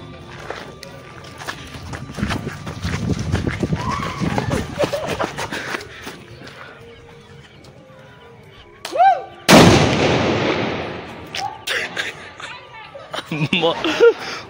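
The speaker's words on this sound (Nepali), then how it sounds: "हामी पटका पड्काउँदैछौँ" Firecrackers set off outdoors during the Tihar festival, with one sharp, loud blast midway and smaller pops near the end, amid chatter and excited voices throughout.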